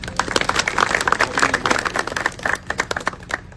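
An audience at a political talk applauds, many hands clapping in a brisk, close burst that thins out toward the end into a few scattered claps.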